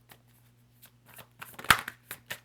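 Tarot cards are shuffled and drawn in a quiet room, soft scattered flicks and riffles that build to a sharper snap near the end, with a faint steady hum underneath.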